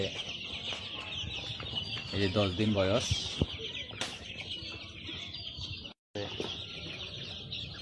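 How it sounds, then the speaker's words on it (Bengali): Young ten-day-old chicks on a chicken farm peep and cluck in a busy, continuous chorus, with someone talking over them and a brief dropout near the end. "আমাদের মুরগির ফার্মে ছোট বাচ্চা আজকে"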